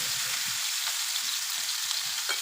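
Food fries in oil in a pan over low heat, giving a steady, even hiss of sizzling with faint crackles throughout and no voices.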